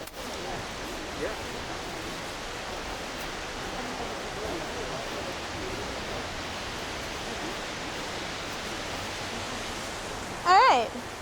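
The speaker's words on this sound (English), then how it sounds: "Can you hear me above the roar of the Sock Hill?" The Sock Hill stream in winter roars steadily as flowing water, a broad, constant rush close by, with a brief sharp sound near the end.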